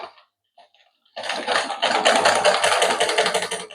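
After a short pause with a couple of faint taps, a sewing machine starts stitching a shirt with a loud, close, rapid rattle that runs steadily to the end.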